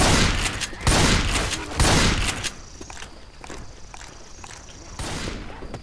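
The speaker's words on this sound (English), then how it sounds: "Can you stop shooting me?" Rapid bursts of gunfire from the zombie shooter game Left 4 Dead 2, with dense, loud volleys at first that ease into scattered, quieter shots and footsteps.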